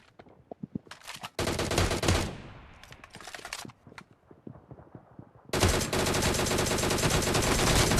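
Gunfire in the mobile shooter BGMI: a few scattered single shots, then loud sustained automatic bursts, a break with sparse shots, and another long continuous burst, all close and harsh.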